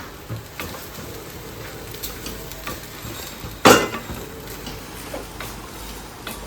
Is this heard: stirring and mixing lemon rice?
yes